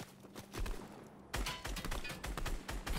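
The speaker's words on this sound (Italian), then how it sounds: "stanno sparando, ce l'abbiamo tutti intorno" Gunfire from several weapons in the Fortnite video game, in Season 8, with rapid overlapping shots and bursts coming from all around, loud and dense, without speech.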